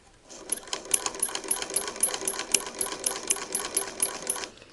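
An older Singer Model 20 sewing machine stitches through two layers of quilting cotton, a rapid, steady run of light mechanical clacks lasting several seconds at close range.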